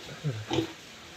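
A young pig being raised for roasting gives a couple of short, close grunting oinks in quick succession, fairly loud against a quiet background, with no voices.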